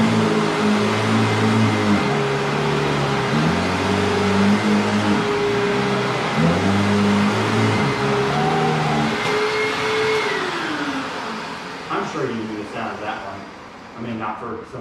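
A real household vacuum cleaner, full-size version of a 2000s toy model, hums loudly and steadily with a droning whine that wavers in pitch, then winds down near the end into rattles and clicks.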